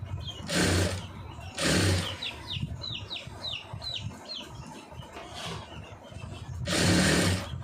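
Sewing machine stitching a star-shaped neck design, running in loud bursts separated by quieter gaps with faint background chirping.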